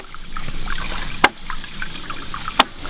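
A hydraulic ram pump fed by a bucket intake and flume gives two sharp, loud pops about a second and a half apart, over a steady trickling of flowing water.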